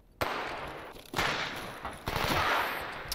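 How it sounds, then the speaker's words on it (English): Gunfire from mercenaries in a video game, sharp bursts in several close, loud volleys, each opening with an abrupt crack and trailing into rattling shots. "I think the mercenaries are shooting at us."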